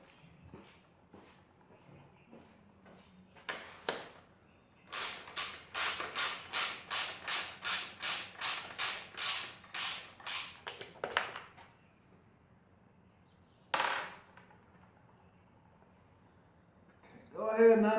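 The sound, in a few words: ratchet loosening bolt on Honda Grom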